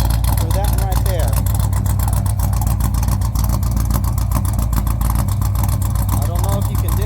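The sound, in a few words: car engine idling with popping misfire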